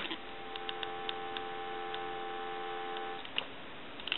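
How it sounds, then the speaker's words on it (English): Steady continuous telephone dial tone from an animated M&Ms Polyconcept novelty phone under repair, a constant hum-like tone with a few faint clicks, no talking. "I want to give you some dial tone."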